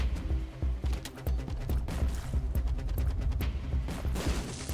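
Explosions from a bomb in The Binding of Isaac Repentance, a run of sharp booming blasts in quick irregular succession, fairly loud and close, with no talking.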